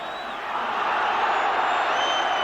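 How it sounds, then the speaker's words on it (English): A home football crowd at a 1981 Scottish Cup quarter-final between Dundee United and Motherwell reacts to a referee's decision with a steady, broad roar of disapproval and scattered whoops, sustained and fairly loud throughout. "Local crowd don't like that decision"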